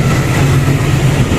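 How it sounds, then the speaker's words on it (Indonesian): Freight train rolling past on track 2 at Karawang station, a loud, steady, close rumble with continuous low engine drone and rail noise filling the whole moment, no voices. "Ini jalur 2 kereta api Barang."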